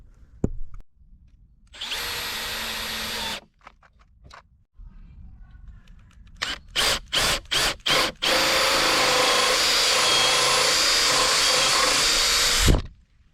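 A power drill with a hole saw bores into a timber beam for a garden sauna build, with loud sustained drilling bursts, a quick run of short pulses, then a long steady cut before stopping.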